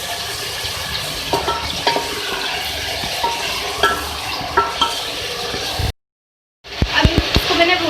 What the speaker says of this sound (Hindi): ये डालने के बाद हम इसको भून लेंगे।